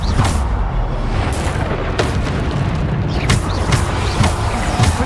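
Bombarda blasting spells going off in Hogwarts Legacy combat, a dense run of loud booming explosions with sharp crackling bursts layered over a constant rumbling din, no pauses between hits.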